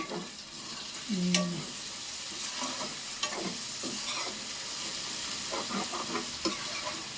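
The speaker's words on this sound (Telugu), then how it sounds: "చేప అయితే వేగిందండి" Fish frying in a pan of oil for a curry gives off a steady close sizzle, with a few scraping stirs and utensil taps over the top and no talking.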